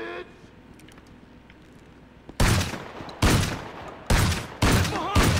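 Bursts of loud gunfire in the video game GTA Online, five heavy volleys that follow one another in quick irregular succession after a quieter opening stretch.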